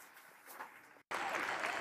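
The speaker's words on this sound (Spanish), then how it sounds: "ahora les propongo un gran aplauso para nuestros ponentes." A conference audience breaks into applause for the speakers, a sudden full burst of clapping after a brief hush, following quiet room sound.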